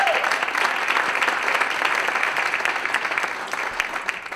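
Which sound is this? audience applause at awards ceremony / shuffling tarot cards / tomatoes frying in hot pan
audience applause at awards ceremony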